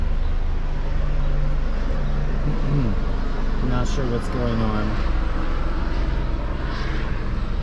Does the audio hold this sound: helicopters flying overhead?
yes